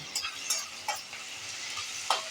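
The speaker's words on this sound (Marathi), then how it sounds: "आता हा कांदा मात्र थोडा फ्राय झाला पाहिजे" Onion frying in a pan for stir-fry vegetables, a faint, soft sizzle punctuated by a few light stirring scrapes, close but quiet.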